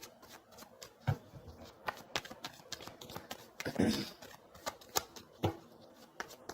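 Tarot cards are shuffled and drawn by hand in a series of quick, crisp riffles and taps, with a denser flurry of card noise partway through, close and moderately quiet.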